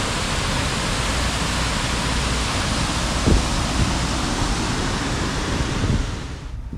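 Steady, dense roar of a waterfall below an old castle, a continuous broadband rush with no voices, holding level throughout before easing slightly near the end.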